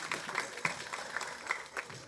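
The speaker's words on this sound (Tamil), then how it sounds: "இதுக்கெல்லாம் ஒரு கைத்தட்டிடணும் நீங்கள்" Audience applause at a Tamil movie audio launch event, a scattered, fairly faint patter of clapping from a crowd, steady across the moment with no voices over it.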